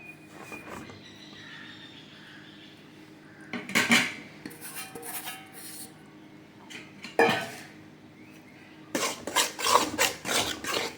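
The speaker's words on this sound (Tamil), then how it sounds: "இப்போ இந்த அரிசி மாவு பார்த்தீங்கன்னா வறுத்து எடுத்து வேண்டியது தான்." A metal utensil scrapes and clatters against a pan in repeated bursts, roasting dry rice flour with rough rasping strokes; no talking.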